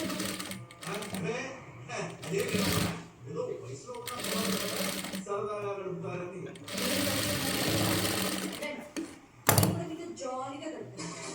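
A domestic sewing machine stitches a blouse lining in short bursts of motor whir and needle clatter, stopping and restarting repeatedly while someone talks over it throughout.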